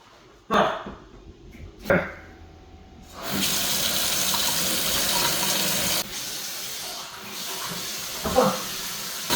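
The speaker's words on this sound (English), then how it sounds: "going to turn on the faucet." Water running from a broken, leaking kitchen faucet makes a steady hiss that starts after a few knocks and clatters, holds loudly for about three seconds, then drops to a quieter flow with a few bumps.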